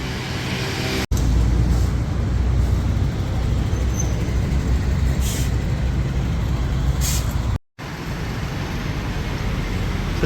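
A city bus rolls past on a Da Nang street at night with a steady low rumble and broad road noise, punctuated by brief hissing bursts, heard fairly close.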